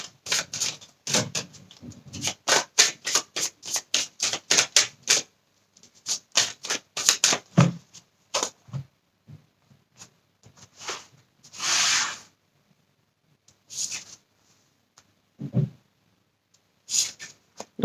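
Tarot cards are shuffled and laid out: rapid runs of close riffling clicks, slower slaps and soft slides of cards on a surface, with a longer brushing rustle midway, no voices.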